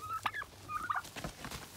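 Domestic turkeys gobble in a farmyard, making two quick, warbling bursts close by with some low clucking and rustling between them, with no talk.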